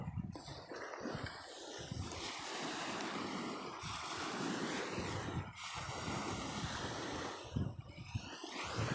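Ocean surf washing in continuous broad rushes, with wind buffeting the microphone and a few louder surges standing out from the steady roar.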